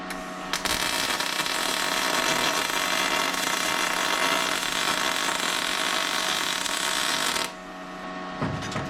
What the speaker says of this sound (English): see if we can weld a bead on the end of this pipe